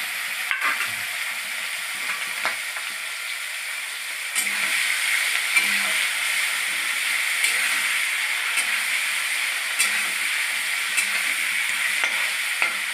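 Prawns fry in a pan with a loud, continuous sizzle and hiss, with a few sharp spatula clinks and scrapes against the metal scattered throughout.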